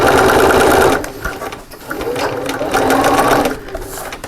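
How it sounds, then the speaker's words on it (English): Sewing machine top stitching fabric about 1/8 inch from the edge at stitch length 3 with a regular needle, a loud steady whirring run for about a second, then a brief pause and another sustained stretch of stitching. "pop them under your machine, about 1/8 of an inch top stitch, little back stitch just to hold that"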